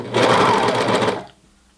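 A sewing machine runs a short, loud burst of rapid stitching along a T-shirt seam, then stops abruptly.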